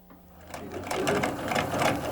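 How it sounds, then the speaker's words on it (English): An old treadle sewing machine runs with a quick rhythmic mechanical clatter that builds from quiet to steady over a couple of seconds, heard fairly close. "Treadle sewing machines came in before the Civil War."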